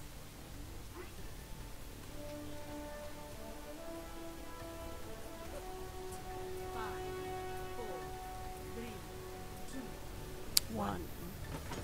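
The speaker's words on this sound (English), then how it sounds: "Look, it's raining." Steady patter of rain in the video game Overwatch, with faint scattered drops and a soft tonal hum behind it, continuous throughout, with a brief sharp tick near the end.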